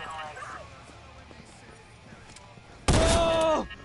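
Gunfire in the Watch Dogs video game erupts as a sudden loud, close burst of rapid shots near the end, following quieter ambience with a faint voice early on.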